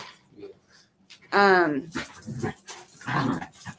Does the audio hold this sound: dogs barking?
yes